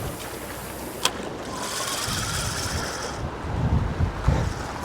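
Strong storm wind gusting over an open boat while fishing in Poole Harbour, a steady broadband roar with a sharp gust or knock near the start and heavier buffeting toward the end, no talking.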